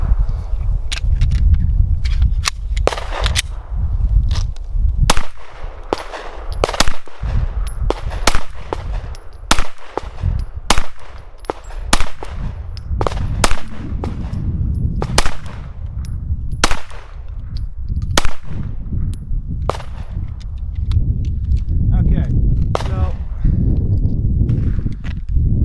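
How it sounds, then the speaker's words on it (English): A Gen 3 Glock 19 9mm pistol fires many sharp, loud shots at an irregular pace, some close together and others spaced out, over a rumbling outdoor background. "Glock 19, it's still kind of shooting a little bit left."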